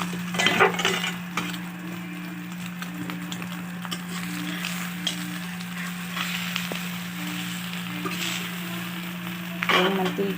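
Eggplant omelette frying in oil in a pan, a steady, close sizzle and crackle running throughout, with a few brief louder spatters near the start and end.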